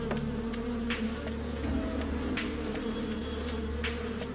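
A dense, continuous buzzing of many bees fills the whole stretch, steady and close, with faint higher whines from individual insects passing by.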